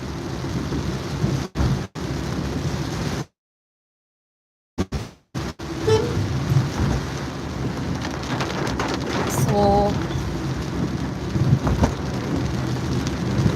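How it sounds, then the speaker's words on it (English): Heavy rain pounds down steadily with thunder rumbling, a continuous loud wash briefly interrupted by a short silence, with a few faint spoken words under the downpour. "it's raining pretty hard."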